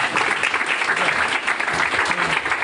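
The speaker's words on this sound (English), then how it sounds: "let's give him a round of applause" Meetup audience giving a round of applause, a thick, continuous patter of many people clapping together, loud and close, with no speech over it.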